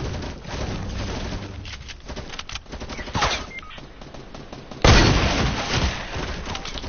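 Enemy gunfire in a multiplayer shooter game, with rapid bursts of automatic fire crackling throughout and a louder, harsher volley near the end, with no talk over it.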